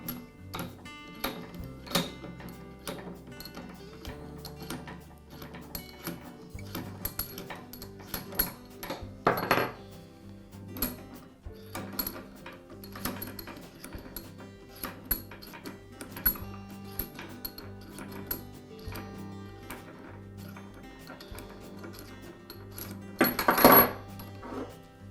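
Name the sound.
removing locking handles and separating halves of a Wilton vise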